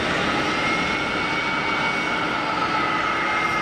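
Airliner taxiing out at Geneva Airport, a steady jet-engine whine and broad roar holding constant from a distance, with no talk.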